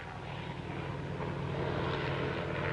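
Air America planes and helicopters used to ferry cargo, military supplies and personnel in Laos; a steady, continuous propeller aircraft engine drone holds throughout, fairly loud and unbroken, with no voices over it.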